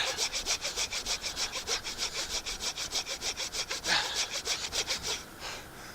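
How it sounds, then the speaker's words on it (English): A hand saw cuts through wood in a steady, rapid back-and-forth rhythm of rasping strokes, close and clear, stopping near the end. "so I'm not sawing at full capacity right now"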